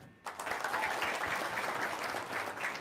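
Applause from a religious talk audience breaks out after a brief quiet start and carries on steadily and loudly as a dense wash of clapping to the end.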